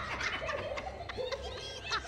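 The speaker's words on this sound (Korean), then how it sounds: "아주 인상적인 소리를 들을 수 있는데 이는 점박이 하이에나의 실제 울음소리에서 그 이유를 찾을 수 있습니다" Spotted hyena call from The Lion King animated film: a short burst of cackling, giggling whoops, moderately faint, repeating rapidly over about two seconds.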